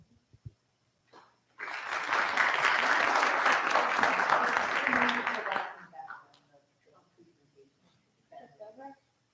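Audience applause at a Board of Education meeting honoring a school's universal pre-K program: a brief voice, then a burst of many hands clapping for about four seconds that fades out, with faint talking afterward.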